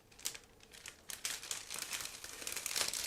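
A plastic bag holding parts of an ICM 1/32 Ki-86a model kit is crinkled and rustled open nearby, with repeated bursts of crackling and a few sharper crumples, getting louder toward the end.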